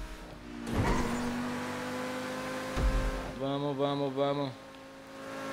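A T20 supercar accelerating in a GTA V Online race at the Los Santos airport, its engine note rising in a few stepped revving bursts near the end, with a steady hum beneath and a voice urging it on.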